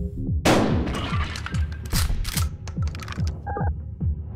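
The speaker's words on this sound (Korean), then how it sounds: "일단 쏘고 시작해." The shotgun in Buckshot Roulette fires once with a loud blast, followed by a run of close mechanical clacks and ratcheting clicks from the gun's handling, with no voices.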